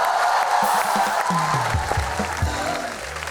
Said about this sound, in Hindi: जोरदार ताली हो जाए यार हमारे तीनों प्लेयर्स के लिए